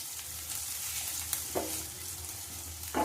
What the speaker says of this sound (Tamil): இப்போ இது ஒரு ஃபியூ செகண்ட்ஸ் சாட்டே பண்ணிடலாம்.